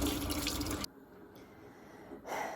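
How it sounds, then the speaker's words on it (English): Filtered tap water runs over vegetables in a sink, a close splashing rush that cuts off abruptly, leaving quiet drips and small handling noises before the flow starts again at the end. "just wash them with filter water"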